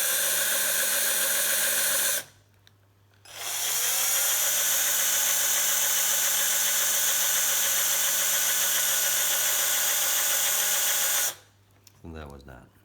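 An electric drill bores into a vintage quick release skewer with a loud, steady whine, up close, running in two long bursts separated by a brief pause before it winds down.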